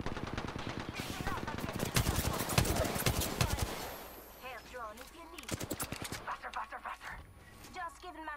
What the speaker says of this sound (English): Oh wow, I'm missing all my shots.